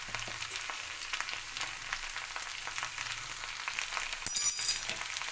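Food fries in a pan with turmeric and salt, giving off a soft, continuous sizzle with faint crackles and a brief louder burst near the end, with no voices over it.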